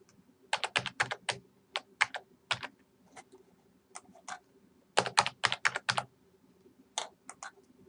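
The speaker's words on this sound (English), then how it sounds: "Enter your Union ID and password." A computer keyboard typing a username and password into a campus web login page: irregular clusters of crisp, close keystrokes with short pauses between bursts, no voices.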